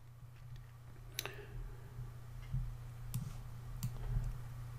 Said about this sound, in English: I'm going to highlight it, right click on it, copy.